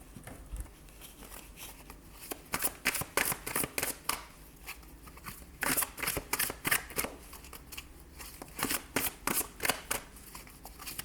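Tarot cards are gathered and shuffled by hand, a brisk run of close, crisp riffling and slapping bursts repeating steadily for several seconds with no talk.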